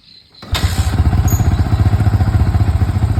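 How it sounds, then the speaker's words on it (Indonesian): Yamaha Vixion motorcycle engine cranks and catches after a short quiet lead-in, then settles into a steady, throbbing idle with a rapid, even pulse, close and loud. "Kita hidupkan motornya."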